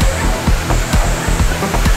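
Water falls and sprays steadily at Cherrapunji in Meghalaya, a loud, continuous rushing wash with faint rhythmic thumps underneath.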